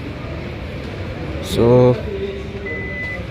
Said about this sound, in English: you get electronically operated tailgate. This is how it operates.